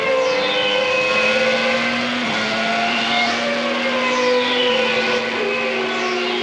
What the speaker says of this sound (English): the car that does not sound good is one of the Ford-engined Minardis of Pierluigi Martini